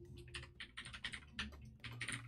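Rapid clicking of keys on a computer keyboard as someone types code in a C programming session, the keystrokes coming in quick irregular bursts, close and fairly quiet, with no voices.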